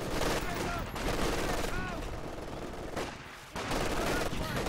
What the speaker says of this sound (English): Yes, this MG42 and the sniper. Just blasting that mortar.